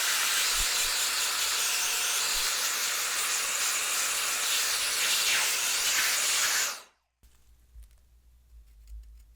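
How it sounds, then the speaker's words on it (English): An electronic air duster blasts outdoors onto the fan of a smoke- and soda-damaged Wii, a loud, steady rushing hiss lasting about seven seconds before cutting off abruptly, leaving faint background noise. "after I put my electronic air duster on it outdoors"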